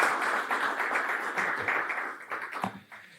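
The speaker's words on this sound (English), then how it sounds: "One applause." A small audience claps after a startup pitch at the CroAI event, a brief patter of hands that thins out and fades toward the end.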